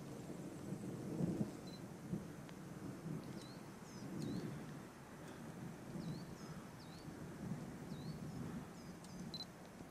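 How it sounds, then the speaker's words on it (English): Low, rolling rumbles of distant thunder swell and fade under a steady wash of rain or wind, with faint high chirps of birds above. "Thunder's coming, Mill."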